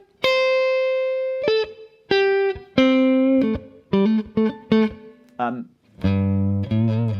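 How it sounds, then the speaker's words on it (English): An electric guitar plays a short solo built from chord tones (flat seven, root, flat three), about fifteen clean, sustained single notes with some longer held tones and quick runs, with a mildly processed, effected tone and no talking. "I'm gonna solo just using chord tones, so flat 7, root, flat 3, flat 7."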